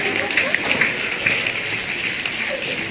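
Many youth climate activists packed into a Capitol hallway keep snapping their fingers harder, a continuous crackling wash of overlapping clicks, fairly loud and close, with faint voices underneath.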